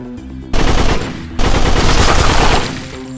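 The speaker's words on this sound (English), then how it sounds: "I don't know why I keep shooting." Dense automatic gunfire from the shooting game Veggie Killer, two loud sustained bursts separated by a brief pause, with no speech over them.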